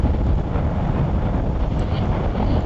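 Rushing, buffeting wind roar inside a crash helmet while riding a 2020 Kawasaki Ninja H2 SX motorcycle, loud and broadband, steady over the short stretch with no talk.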